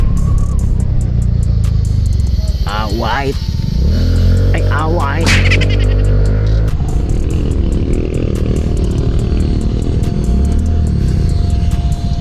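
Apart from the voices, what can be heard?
road traffic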